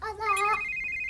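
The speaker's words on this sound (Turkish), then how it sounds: "Telefon çaldı." A telephone rings in a Turkish TV drama, a loud, close electronic melody that steps up in pitch before holding a steady tone over about a second.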